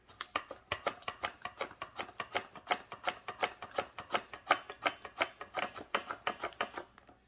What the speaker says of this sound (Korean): 얇게 채칼로 한번 썰어 보겠습니다